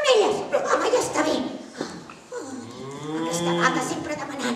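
A dairy cow on a farm gives a long, loud, drawn-out moo close by, after a stretch of people talking and chuckling.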